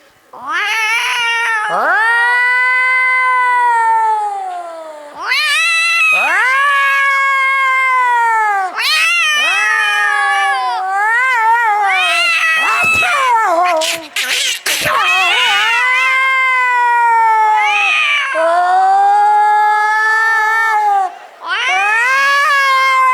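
A voice imitates two cats fighting, with long, wavering yowls and caterwauls rising and falling loudly, one after another with brief pauses.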